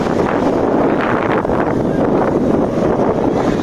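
Steady broadband roar of sea waves at Shivrajpur beach near Dwarka, continuous and fairly loud throughout with wind buffeting the microphone, no distinct individual crashes.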